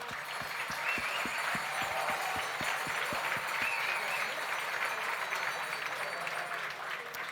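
Steady applause from an audience at a ski sports awards ceremony, a continuous dense patter of many hands with a few distinct rhythmic claps early on, heard from a distance with no speech.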